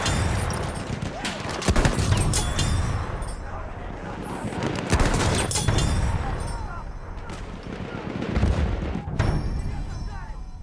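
Machine gun fire in a Battlefield 1 battle, dense overlapping volleys and heavy booms running continuously, with shouted voices under the din.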